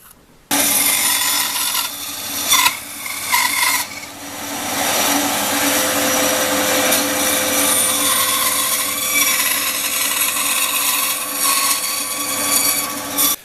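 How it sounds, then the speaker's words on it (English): A bandsaw cuts wooden soles for Japanese geta sandals, giving a loud continuous rasping whine that runs almost without break after a short start, with small dips as the blade works through the wood. "cut them out on the bandsaw"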